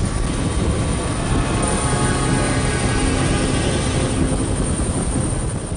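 Helicopter hovering directly overhead in war-torn Syria, a continuous loud droning rumble with steady rotor texture, unbroken and close throughout, no voices.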